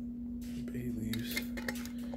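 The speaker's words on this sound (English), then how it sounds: "Put the lid on. It's a mason jar" Metal lid and band being fitted and screwed onto a glass mason jar of homemade bay rum aftershave, a short series of close clinks and scrapes over a steady background hum.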